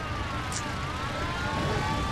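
Police car siren wailing in the Mafia video game, a steady rising-and-falling tone over continuous engine and traffic noise, loud and close throughout the short stretch with no talk.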